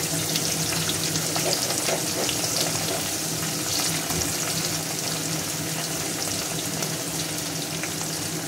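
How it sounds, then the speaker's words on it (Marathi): Green chili thecha fries in oil in a pan, giving a steady, dense sizzle that runs throughout at an even, fairly loud level with no talking. "आता हे ठेचा फ्राय करायला आपण तेल टाकून घेणार आहे"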